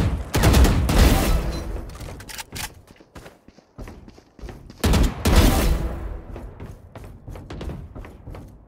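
Gunfire in the tactical shooter Valorant, with two dense bursts of rapid shots near the start and again around the middle, separated by quieter scattered clicks and footsteps.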